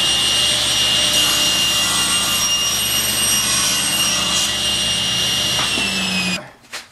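A saw runs steadily through a wood billet while cutting the seat joints of a rocking chair, a loud continuous whine with a high tone that holds for about six seconds, then stops abruptly.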